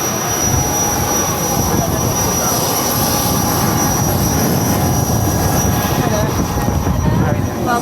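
An Embraer 145 jet engine whines and roars steadily up close, with a high-pitched tone over a broad rushing rumble, and voices faint beneath it.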